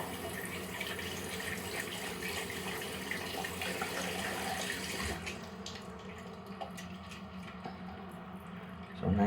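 A tap runs warm water steadily into a sink for lathering shaving soap, a close, continuous stream that thins to lighter trickling and drips partway through before a brief louder splash at the end.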